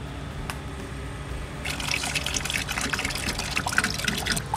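Worcestershire sauce, 18 ounces, poured into a container for a large batch of Bloody Marys, beginning as a brief splash and turning into a steady, close gushing pour that fills the latter part.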